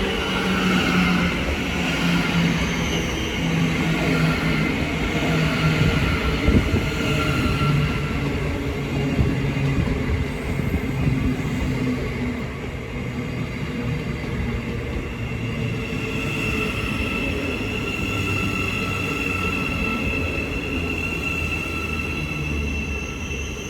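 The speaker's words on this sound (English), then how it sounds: "1507 Thameslink service from Brighton to Cambridge, being worked by a class 700" A Thameslink class 700 electric train on a Brighton to Cambridge service passes at Hitchin on the East Coast Main Line, a loud steady rumble and hum of rolling stock with faint wheel squeal, continuous throughout with no voices.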